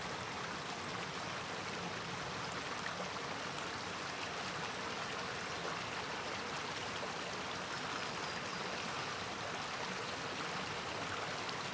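The Moshassuck River in Rhode Island flows in a steady, even rush of water, a constant soft broadband wash with no breaks, heard alone without talk.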